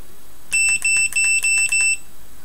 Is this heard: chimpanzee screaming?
no